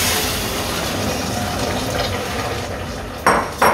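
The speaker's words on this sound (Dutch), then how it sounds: "en blussen met water" Water pours and sizzles into a hot pan to deglaze it in a steady hiss, followed by two sharp clanks of a utensil against metal.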